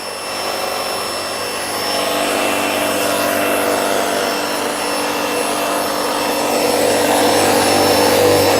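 A vacuum draws air out of RV cushion foam wrapped in plastic film, making a steady, loud, broadband rushing hiss that holds without a break and swells slightly toward the end.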